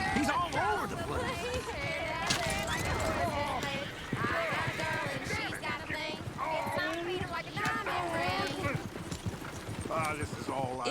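Horse hooves clip-clopping in the video game Red Dead Redemption 2, a busy, continuous rhythmic clatter of several horses close by, heard under frequent overlapping voices and general town bustle.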